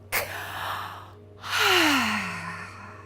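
A sharp, audible inhaled breath through the mouth with a K sound, followed by a long, rushing exhale, close and clear with no talking.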